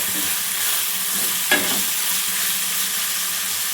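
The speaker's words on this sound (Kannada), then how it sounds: "ನೀಟಾಗಿ ಫ್ರೈ ಮಾಡ್ಕೊಳ್ಳಿ" Steady, close frying sizzle of cardamom and other whole spices for chicken masala hisses throughout, with one brief clink of a stirring spoon about midway; no voices.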